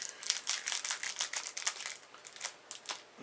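Scissors snip and crinkle through a foil card pack wrapper while trading-card booster packs are opened; a quick series of close, crackly rustles and cuts, with no talking.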